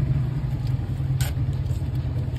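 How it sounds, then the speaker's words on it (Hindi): Car rolling into a mall's basement parking garage, a low steady engine rumble and tire hum with a brief higher hiss partway through, heard from inside the vehicle. "तो अभी नीचे बेसमेंट में गाड़ी पार्क करते हैं"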